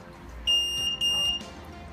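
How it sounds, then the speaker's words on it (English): Two short, high electronic beeps from a vehicle tracker's RFID reader on power-up sound close together, bright and clear over a quiet background hum. "RFID reader beep twice, it means it works normally."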